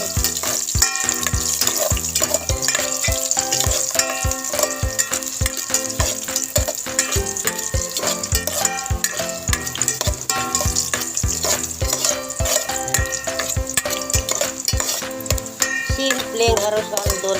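Sticky rice, garlic and ginger sauté and get stirred in a hot pan for arroz caldo. The frying sizzle runs close and steady the whole time, with repeated scraping strokes and no talk.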